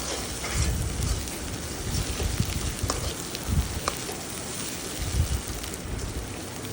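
Garlic and green chilies fry with softened onions in a pan for a shrimp dish, a steady close sizzle with scattered pops and crackles and no talk.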